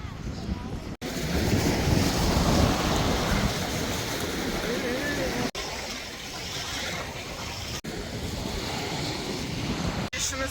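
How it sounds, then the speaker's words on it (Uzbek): Sea waves breaking and washing on the Sea of Japan shore at Gangneung, South Korea, with strong wind buffeting the microphone; a continuous loud roar of surf and gusts with brief dropouts. "Mana biz keldik Yapon dengiziga."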